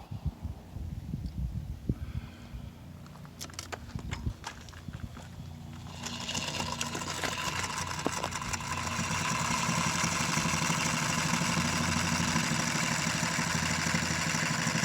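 A sewing machine stitches fabric for a rug made from a blanket, beginning with scattered clicks and handling noises and then settling after a few seconds into a steady, loud mechanical whirr that runs on evenly.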